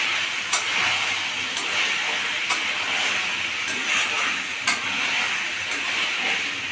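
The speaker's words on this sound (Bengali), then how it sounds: "ভালো করে মিক্স করে দিচ্ছি গরম মশলার গুঁড়োটা দিয়ে।" Chicken korma is stirred in a pan after garam masala powder goes in, a steady wet scraping and soft sizzle with several sharper clicks of a spoon against the pan, close and moderately loud, with no talking.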